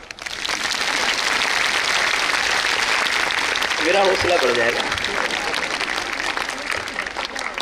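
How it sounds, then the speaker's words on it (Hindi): An audience at a yoga talk on women's health breaks into steady, dense applause that fills the whole clip, with someone speaking briefly over the clapping partway through. "ताली बजा दो"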